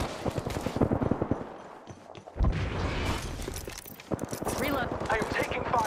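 Automatic gunfire in the Apex Legends video game crackles in bursts under game voice callouts, pausing briefly then resuming with heavy rapid shots and impacts.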